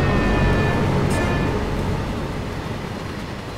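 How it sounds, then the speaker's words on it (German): A long freight train rolls past in Train Sim World 2 near Dresden, a loud continuous rumble and rattle of wagons at close range, slowly fading a little toward the end, with no talking. "Hat der Zug auch mal ein Ende?"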